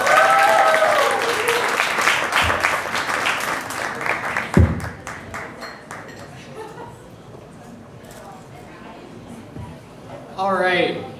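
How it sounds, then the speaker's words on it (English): Audience applause at a costumed Halloween comedy show, heard as a dense burst of claps with cheering from the start that thins out by the midpoint, while an MC speaks over it and returns near the end. "please give one more round of applause to all of our comedians for the night"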